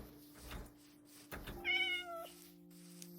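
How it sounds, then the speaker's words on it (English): A cat in the video game Minecraft meows once in a clear, rising-and-falling call, loud and close, over steady low game ambience with a couple of soft knocks before it. "What kind of cat are you?"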